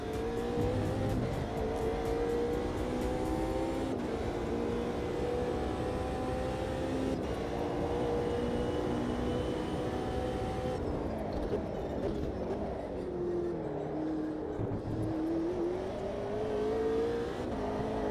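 McLaren race car in the Automobilista 2 racing game, its engine revving and climbing through gears with a loud continuous whine, pitch rising and falling through shifts.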